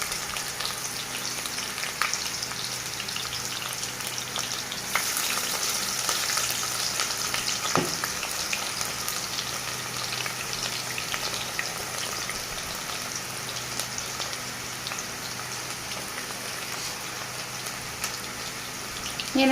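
Onions sizzle and crackle loudly and steadily in hot oil for a vermicelli egg biryani, a dense, continuous frying hiss with no voices.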